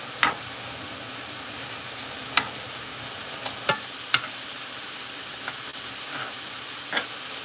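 Meat frying in a pan, a continuous hiss of sizzling with occasional sharp scrapes and clicks of a spoon stirring and nudging it, close and without talk.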